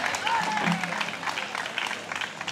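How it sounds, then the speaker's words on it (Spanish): An audience applauds the town crier of the patron saint festivities in La Ribera de Molina. Sustained, dense clapping fills the space, with voices heard talking over part of it. "Un fuerte aplauso."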